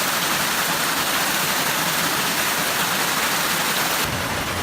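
Stream water flowing along a trail in the Pacific Crest Trail backcountry, a steady close, loud broadband rush of rushing water without pause, no voices present.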